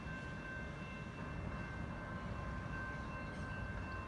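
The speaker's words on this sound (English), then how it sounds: "we have the Southbound Amtrak Auto Train headed our way." A southbound Amtrak Auto Train approaches through Folkston, Georgia, a steady low rumble of rail cars with a faint tonal hum, moderately distant and unbroken, no voices.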